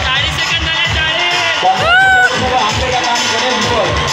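On the Home Minister game show set, a crowd cheers and calls out over a pulsing rhythmic beat; a sharp whooping shout cuts through midway, then the steady crowd noise carries on.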